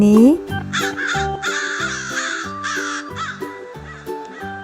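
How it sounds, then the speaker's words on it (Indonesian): A crow caws in harsh, repeated calls over steady background music, close and loud. "Ini suara burung gagak."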